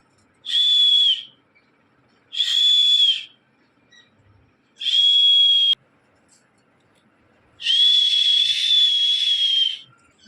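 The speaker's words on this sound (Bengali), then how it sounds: "এইখানেও অনেকগুলো পাখি রয়েছে" High, steady whistled calls repeat four times, each about a second long and the last one longer, loud and near against a quiet background.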